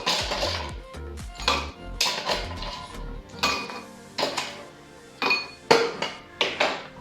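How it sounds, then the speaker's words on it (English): Ice cubes drop into a glass for a grapefruit spritz cocktail, giving a series of separate bright clinks and knocks, close and loud, each ringing briefly before the next. "and we're gonna put ice."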